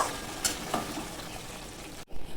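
A spoon stirs prawn and jackfruit curry in a pan after ghee is added, giving a soft continuous sizzle with a few scraping clicks. A brief clatter comes near the end.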